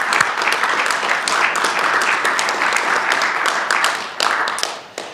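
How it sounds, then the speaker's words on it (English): Audience applause for sponsors at an academic lecture on clinical microbial sequencing, a steady round of clapping from a hall of listeners that fades near the end. "A round of applause for our sponsors."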